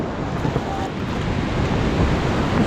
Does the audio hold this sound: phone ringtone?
no